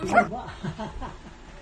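A dog gives a few short whimpering yips close up, with a person talking around it.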